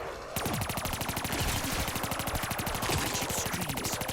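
Rapid automatic gunfire from a Pack-a-Punched wall weapon in Black Ops 3 zombies, a steady loud stream of shots lasting several seconds after a brief lead-in.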